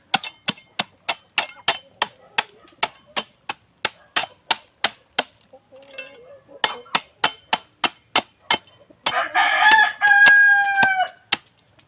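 Sharp rhythmic chopping knocks repeat steadily, then Rhode Island Red chickens cluck nearby and a rooster crows loudly near the end.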